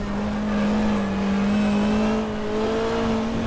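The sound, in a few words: touring race car engine after downshift, GTR2 video game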